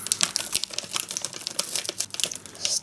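Jelly powder being shaken out of two paper sachets into a bowl, a close, dense crinkling of paper and a fine patter of granules pouring for several seconds.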